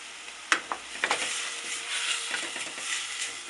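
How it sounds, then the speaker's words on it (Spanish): Onion sizzling in a hot pan while being stirred, a steady bright frying hiss broken by a few sharp clicks and scrapes of the spoon, close and fairly quiet. "Se cocina y que esté revolviendo para que no se vaya a pegar ni se vaya a quemar la cebolla."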